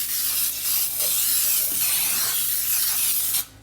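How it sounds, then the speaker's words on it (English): Pam baking cooking spray hisses into a cake pan for an orange cake, a close continuous spray in a few short bursts with brief pauses, then a sudden stop. "I got my baking Pam spray, baking cooking spray here"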